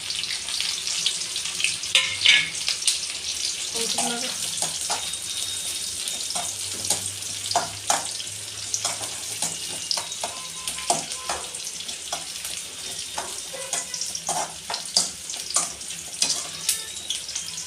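Onions and green chillies frying in hot oil, a continuous hissing sizzle with crackles and pops throughout.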